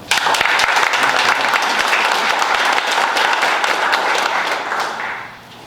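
Audience applause for award winners at a community nature awards ceremony, a loud dense burst of clapping from a sizable crowd that holds steady for about five seconds, then fades away.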